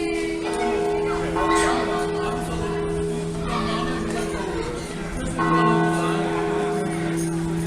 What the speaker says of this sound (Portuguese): Esse sino não vai parar de bater hoje